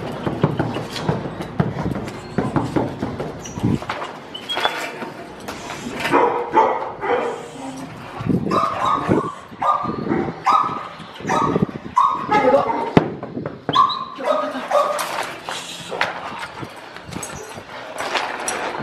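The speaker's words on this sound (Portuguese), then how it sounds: "Sempre tenta incentivar o cachorro a morder dessa forma" A pitbull growls and grunts while biting and tugging a chew toy or tire, in a steady rough rumble with occasional yips and whimpers. People talk over it throughout.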